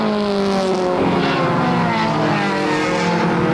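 Mini stock race cars at Flamboro Speedway drone loudly and steadily, engines whining together as the pack circles close by, with no talking over them.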